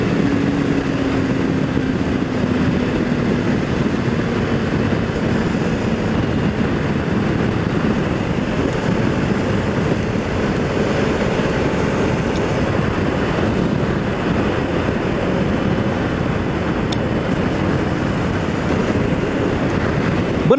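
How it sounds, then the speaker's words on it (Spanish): Hero Hunk 160R motorcycle, 2021 model, running flat out at top speed around 120 km/h, a steady sustained engine drone mixed with heavy wind rush over the microphone, loud and continuous without a break. "ya le hicimos la prueba de velocidad a la motocicleta"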